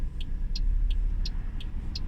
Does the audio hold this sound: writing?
no